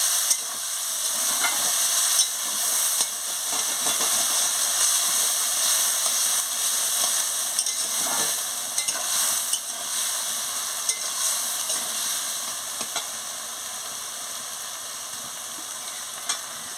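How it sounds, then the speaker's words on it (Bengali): Poppy seed paste and a little water stirred in a hot frying pan for jhinge posto make a constant close sizzle and hiss with occasional scraping strokes running throughout. "পোস্ত বাটা দিয়ে সামান্য একটু জল দিচ্ছি জল দিয়ে ভালো করে নাড়িয়ে নিচ্ছি"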